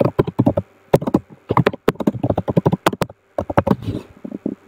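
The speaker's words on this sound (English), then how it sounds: "and then they can type a comment." Fingers type on a computer keyboard in quick, close, uneven bursts of crisp key taps, with a few short pauses between runs.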